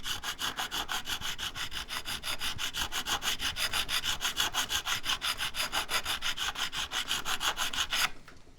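A Chinese-made diamond fret crowning tool files a badly flattened guitar fret in rapid, even back-and-forth strokes, close and rasping, before stopping abruptly near the end.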